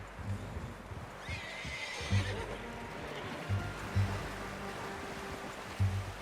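A horse in the video game Red Dead Redemption 2 gives a loud whinny early on, followed by steady clip-clop hoofbeats and low ambient rumble throughout.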